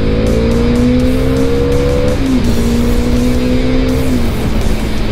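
A Volvo bus accelerates hard on a highway while overtaking, its engine droning loud and steady with a rising then dropping pitch, close and continuous throughout.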